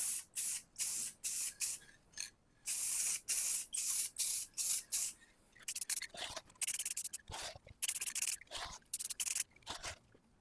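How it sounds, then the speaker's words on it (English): Rust-Oleum spray lacquer hisses from an aerosol can onto scroll-sawn wood, loud close bursts of about half a second each in a quick steady rhythm, with a few longer sprays and short clicks between passes. "I'm using a spray lacquer, Rust-Oleum, so let's give that a go."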